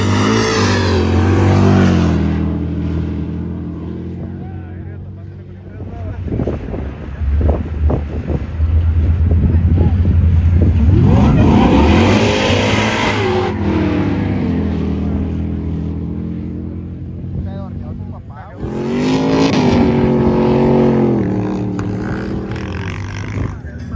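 Drag racing cars at an arrancones event with a 1000 hp Jeep on a dirt strip, engines roaring and revving up loudly in bursts with wind buffeting the microphone, and voices heard in between.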